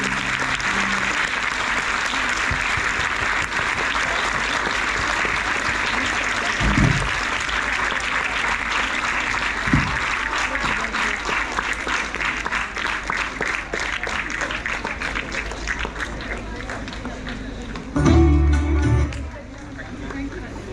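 A school audience applauds at a Hindi kavi sammelan as a performer is called to the stage, with continuous clapping across the clip and a crowd murmuring underneath, plus a few louder thumps and a brief burst of handling noise near the end.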